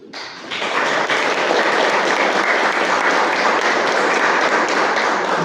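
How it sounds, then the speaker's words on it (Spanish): An audience at a public forum gives a sustained round of applause, loud and dense with many hands clapping at once, swelling in quickly and holding steady. "le pido un aplauso."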